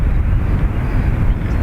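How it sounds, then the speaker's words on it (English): A WestJet Dreamliner airliner takes off from Dublin Airport's north runway, giving a loud, steady low roar of jet engines with wind buffeting the microphone and no speech. "WestJet, Dreamliner, off to Calgary."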